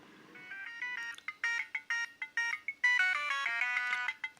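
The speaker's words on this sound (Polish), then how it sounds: "I tu przechodzimy sobie do naszych dzwonków." A melodic electronic ringtone from a 2004 Siemens A70 mobile phone plays alone, a series of bright, clipped synth notes in a quick rhythm, fairly loud and close.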